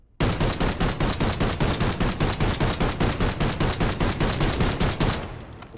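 An SVD sniper rifle fires in Black Ops 6, about twenty loud, evenly spaced shots in quick succession, each with a sharp crack and booming tail, stopping abruptly near the end.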